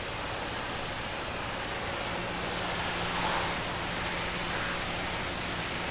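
A trailer gets washed with a pressure-washer spray in Farming Simulator 2015 on the Sandy Bay map, a steady loud broadband hiss of water that holds evenly throughout, with no speech.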